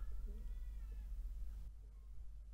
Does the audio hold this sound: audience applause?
no